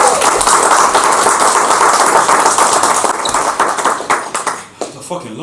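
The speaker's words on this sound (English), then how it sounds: "We are gonna get our hands together and introduce Toby-Amisi." Loud, dense audience clapping and cheering welcomes a comedian onto the stage at a stand-up show, sustained and close for several seconds before thinning out and tapering near the end.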